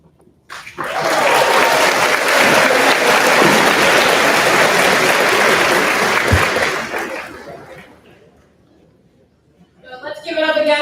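Loud, sustained applause from a graduation ceremony audience fills the space for several seconds, then fades away, followed by a voice starting to speak.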